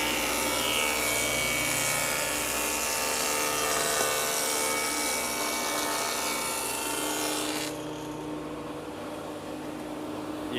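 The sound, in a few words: table saw with dado head cutting a groove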